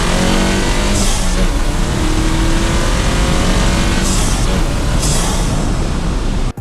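A Volkswagen GTI fitted with an IS38 turbo upgrade and front-mount intercooler pulls hard under acceleration, its engine roar loud and continuous with gear shifts, close and dominant throughout.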